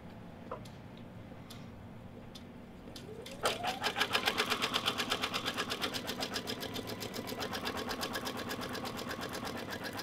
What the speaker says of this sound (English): this is going to stitch out a placement line